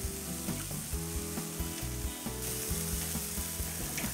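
Shrimp and soft shell crabs searing on a grill grate for a Gulf Coast shrimp boil, a steady close sizzle broken by regular metallic clicks and scrapes.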